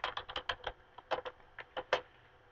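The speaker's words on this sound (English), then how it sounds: "I type in the manufacturer. I type in the distributor that I'm working with." Quick bursts of clicking keystrokes on a computer keyboard, about a dozen close taps in uneven clusters with short pauses, no talking.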